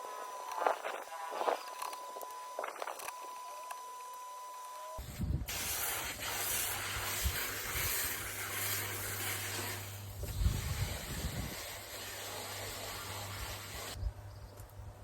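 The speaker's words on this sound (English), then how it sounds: "it's just a case of just hosing them off" A garden hose sprays water onto koi pond filter screens to wash them clean, a steady hiss that starts suddenly after a quiet stretch of faint handling noises and runs for several seconds before easing off.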